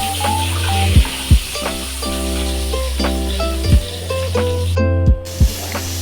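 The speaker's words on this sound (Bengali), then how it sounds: "কড়াতে এই যে পটল দিয়ে দিলাম ভাজার জন্য।" Slices of pointed gourd (potol) fry in oil in a wok, giving a continuous sizzle broken by several sharp spattering pops. Steady tonal sounds run alongside the frying.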